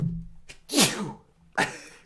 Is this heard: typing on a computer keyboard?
no